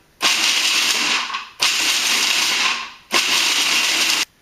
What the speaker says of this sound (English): we're going to blend those and process them until they're very fine and powdery